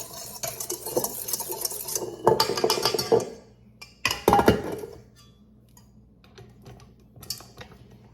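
A whisk mixing dry ingredients in a bowl for a low-carb shepherd's pie: rapid clicking, scraping strokes in two bursts with a pause between, then quiet with a faint tap near the end.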